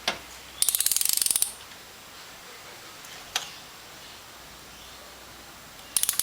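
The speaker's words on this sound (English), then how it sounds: "the torque wrench should click when it reaches the 18 newton meters" A torque wrench ratchets in quick clicking bursts while tightening a spark plug on a 2001 Honda Civic, with a single sharp click in between and another short ratchet run at the end, close and without talking.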